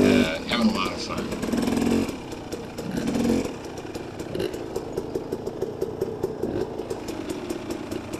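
Two lightweight dirt bikes, a KTM 250 and a Kawasaki KDX 200, rev and putter nearby on single track, their engine noise fluctuating under steady talking.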